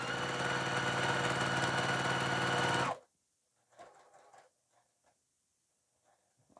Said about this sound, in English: stitch down to that second line, pivot, stitch across it